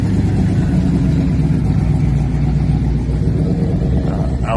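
Deep, heavy engine rumble from a Hemi pickup truck, loud and close, steady throughout with a low throaty idle.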